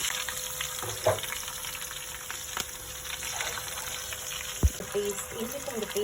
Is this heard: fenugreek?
yes